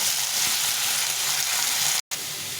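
Carrots and beans sizzle steadily in hot oil in a pan, a loud close hiss that cuts out abruptly for a brief moment near the end before resuming.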